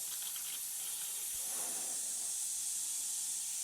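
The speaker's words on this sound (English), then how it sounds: "it'll run me some lacquer thinner through the gun" Lacquer thinner sprays through a paint spray gun as it is flushed clean, a steady close airy hiss running continuously throughout.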